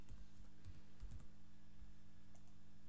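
Keys clatter on a computer keyboard as a password is typed, a quiet, close burst of irregular taps and clicks that trails off into near silence.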